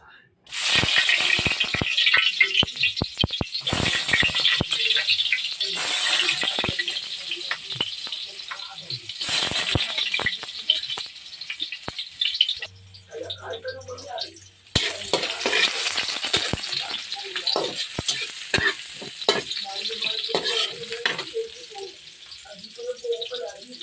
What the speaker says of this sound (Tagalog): Igisa ko muna ang sibuyas, luya at saka bawang.